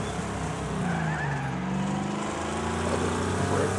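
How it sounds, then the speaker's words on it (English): Arcade-style video game car drifting, its engine droning steadily with a long rising and falling tire squeal layered on top, loud and continuous throughout. "This car drifts fairly decently."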